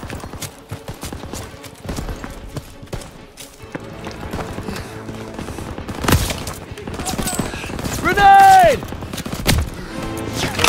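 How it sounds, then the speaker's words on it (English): Machine gun and rifle fire rattle through a D-Day beach battle in the PlayStation 4 game Call of Duty: WWII, dense bursts and scattered shots under battlefield noise and shouting, with a louder burst near the end. "MG in the hayloft! Take cover!"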